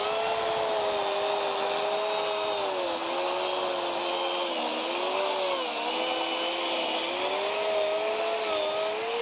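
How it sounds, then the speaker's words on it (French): An electric chainsaw powered by a Tallpower V2400 portable power station runs continuously at high speed, a loud steady whine that wavers slightly in pitch throughout. "On va passer à du plus difficile, une tronçonneuse."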